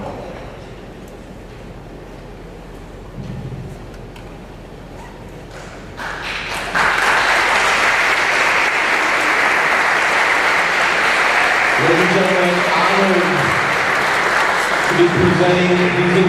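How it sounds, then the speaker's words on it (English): Applause from a board of education meeting audience rises after a quieter stretch and then continues steadily, with voices talking over it during the later part. "Give them another round of applause"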